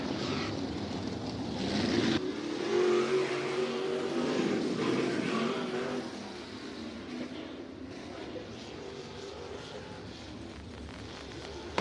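A race car's engine roars at Brighton Speedway during a Knights of Thunder event, a loud, rough revving drone heard from a distance that fades to a lower steady rumble partway through.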